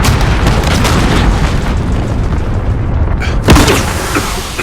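A grenade goes off in a Call of Duty: Modern Warfare multiplayer deathmatch on PS4, one loud boom standing out near the end of a dense, continuous wash of in-game battle noise.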